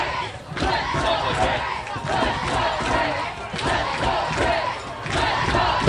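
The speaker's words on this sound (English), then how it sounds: "The crowd is fired up." A fired-up crowd roaring and cheering at a high school football regional championship between the Hobart Brickies and New Prairie Cougars, a loud, sustained wash of voices rising and falling for several seconds.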